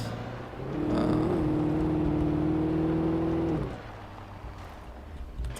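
Car engine in the game Alan Wake, a steady droning hum held for about three seconds before cutting back to quieter background, with no talking.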